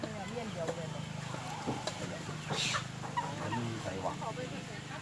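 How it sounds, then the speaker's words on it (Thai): Chickens clucking and calling outdoors, scattered close-by squawks over a steady background hum, with people chatting throughout. "ไก่"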